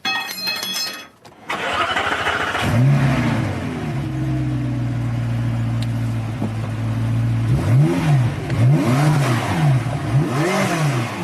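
A sports car engine starts with a sharp burst, settles into a loud steady rumble, then revs up and down in repeated surges.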